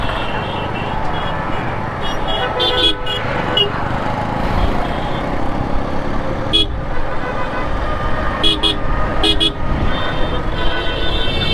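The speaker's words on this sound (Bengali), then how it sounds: "তুষার ভাই হর্নটা কিন্তু সেই" A vehicle horn gives several short toots during an Eid holiday outing, with one near the start, one midway and a quick cluster near the end. The blasts ring over steady road and engine noise while people talk.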